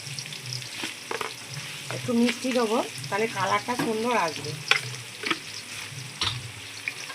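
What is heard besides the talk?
onions frying with salt in pan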